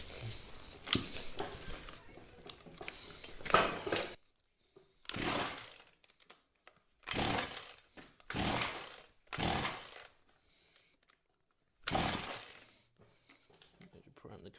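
A Makita whipper snipper engine, with the carburetor just refitted during a repair, fires and revs in several short raspy bursts separated by near-silent pauses. A person talks over the early part.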